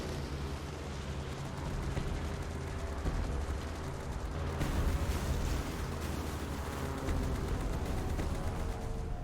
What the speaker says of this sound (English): Looks like our torpedo bomber took him out.